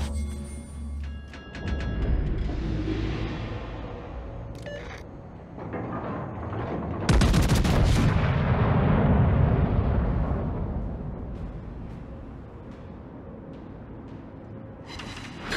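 Naval gunfire and explosions in the World of Warships video game: heavy booming blasts and rumbling detonations, with a big loud explosion about halfway through that decays into a long, low roar.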